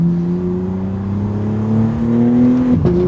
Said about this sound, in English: It's like, it does the same ignition cut, but it does like a little backfire